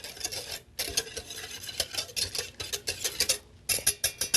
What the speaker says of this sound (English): And we'll go over here and stir that up a little bit.